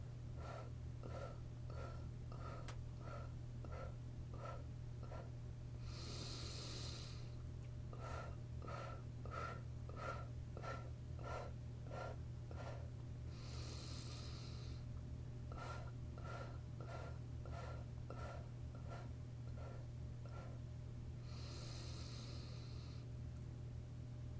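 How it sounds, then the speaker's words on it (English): Rhythmic breathing during a meditation exercise: repeated sets of eight short, segmented exhale pulses, each set separated by a longer, broad inhaled breath. The breaths are close and soft over a steady low hum, with no talking. "it's just a 1 inhale, I almost forgot. And then the 8 parts on the exhale."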